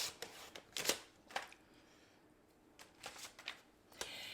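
Paper trimmer slicing cardstock, a few quick sharp swishing strokes and light taps close by, spaced irregularly with brief pauses in between.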